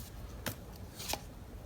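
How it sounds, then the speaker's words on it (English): Tarot cards being shuffled, two or three faint quick riffling flicks spaced apart against a quiet background, no talking. "I'm also going to be shuffling cards from Baba"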